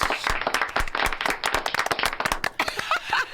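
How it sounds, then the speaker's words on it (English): A small studio group gives a guest, an author and wild foods expert, a short round of sharp, close, individually distinct claps in a quick, uneven rhythm. A brief voice is heard near the end. "Once again, Langdon Cook, big round of applause."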